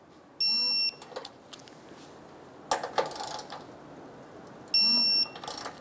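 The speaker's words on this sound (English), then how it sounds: "Now we're going to torque those down to 24 foot-pounds." A torque wrench is tightened on front bumper impact absorber bolts on a 2012-2016 Subaru Impreza, with ratcheting clicks, a sharp click as the set torque is reached, and electronic beeps at the start and end.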